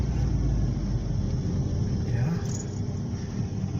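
Sixth-generation Mitsubishi Galant AMG running on an Indonesian road, its engine giving a steady, low, close rumble that continues without letup.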